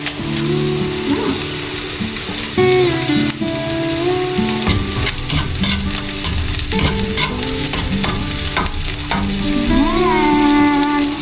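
Onions fry in a pan with steady sizzling and occasional stirring, loud and continuous throughout, with faint music or tonal sounds over the top and no talk.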